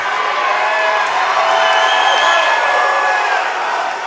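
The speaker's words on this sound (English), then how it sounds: "Big flurry from Tyler Potters got the crowd excited." A fight crowd roaring and cheering in a venue during the Tyler Potters vs Tony St Clair bout, a dense sustained swell of voices with a few whoops.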